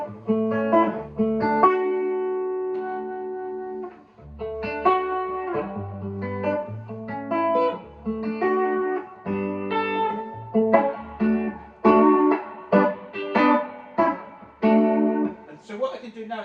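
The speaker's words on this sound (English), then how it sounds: "So I've drastically put more reverb than I normally would, and I've put more vibrato than I would." Electric guitar drenched in heavy reverb and pronounced vibrato, in a wet/dry rig, plays sustained chords and arpeggiated phrases with long ringing tails, fairly loud and without talk.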